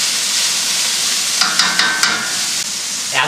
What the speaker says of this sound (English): I've got some olive oil in the hot pan and I'm going to sear off this meat